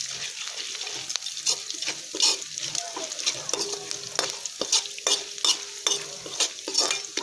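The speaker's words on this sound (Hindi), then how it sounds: "तो दोस्तों हमने 8-10 कड़ी पत्ता लिया है, तो अब हम वो डाल रहे हैं।" Eight to ten curry leaves sizzling in hot oil for upma, crackling and spattering with repeated sharp scrapes and pops, close and moderately loud.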